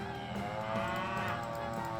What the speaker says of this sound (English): Listen to the cows protest being hauled to the slaughterhouse.